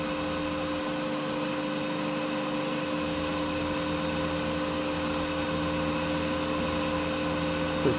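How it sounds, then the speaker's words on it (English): Steady mechanical hum from a Farm Loop automation mechanism lifting the back of a 3D printer after a finished print, with constant motor drone and tonal whine throughout and a small bump near the end. "Loop basically lifts the back of the printer."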